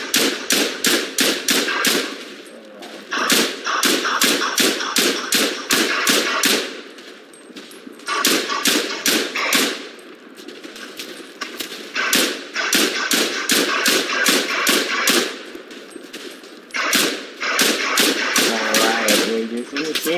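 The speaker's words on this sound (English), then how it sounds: "Alright, we're using machine guns." Machine gun fire in the World War I shooter game Tannenberg, on a Ukrainian map: loud, close rapid bursts of evenly spaced shots, several long strings separated by short pauses.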